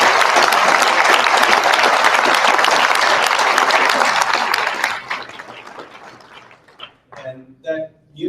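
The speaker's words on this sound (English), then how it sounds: "Shall we give him another round of applause?" Enthusiastic audience applause fills the room, dense and loud, then thins out into a few scattered claps and quiet voices near the end.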